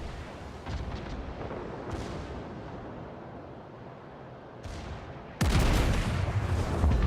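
Warspite battleship main turrets fire in World of Warships, a rolling artillery rumble with a sharp heavy boom near the end as a fresh salvo lands loud and close, no talk over it.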